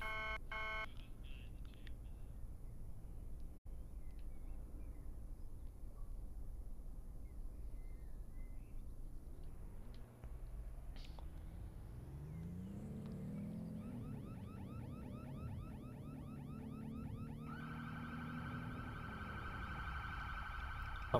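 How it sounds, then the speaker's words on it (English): A bank alarm in a Roblox police roleplay game sounds from about 12 seconds, a rising then steady electronic wail with pulsing repeated beeps, over a constant low background hum. "we got an alarm here at the bank"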